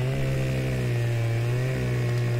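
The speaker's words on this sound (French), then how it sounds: "c'est faisable avec une scie mécanique" A chainsaw cutting a tree in the Alps forest of Farming Simulator 2017, a steady, loud, close engine drone with a constant pitch and no pauses, heard alone.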